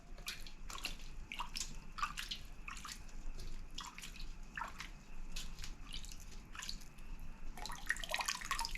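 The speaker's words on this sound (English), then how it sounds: "it just drips in the tray" Water drips from freshly watered sweet potato slip pots into a tray below: many close, irregular drips pattering steadily throughout.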